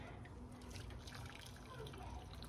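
Liquid from eggs in aspic (oeufs en gelée) preparation is poured through a tea towel over a sieve into a bowl, making a soft, steady trickle and patter in a quiet room.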